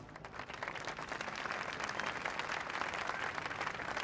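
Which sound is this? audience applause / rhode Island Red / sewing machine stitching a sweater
audience applause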